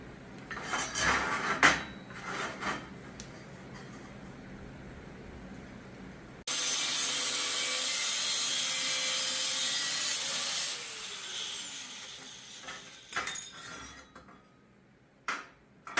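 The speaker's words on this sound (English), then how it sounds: "we need to notch our square tubing out so the other one will fit inside of it" Steel square tubing being notched for a BBQ smoker trailer, with scattered metallic clanks and scrapes followed by a loud, steady grinding or cutting run of about four seconds, then more light clanking and handling noises.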